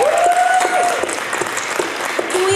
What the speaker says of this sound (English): can we get a big round of applause for Timber for putting on this panel?